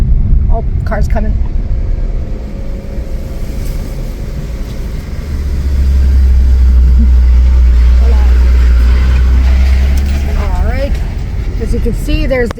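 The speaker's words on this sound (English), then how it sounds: "Oh, car's coming." A car climbing past on a steep road from a resort toward the ocean in rainy-season Costa Rica, its engine rumble swelling loudly nearby for several seconds then easing, with a person talking over it.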